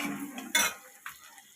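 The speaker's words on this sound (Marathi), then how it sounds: "छान हलवून घेऊया।" A spoon stirs poha with spices in a pan, giving a brief close metallic scrape and clink followed by a fainter second touch against the pan.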